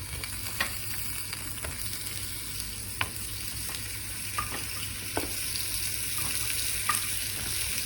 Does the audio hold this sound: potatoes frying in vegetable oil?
yes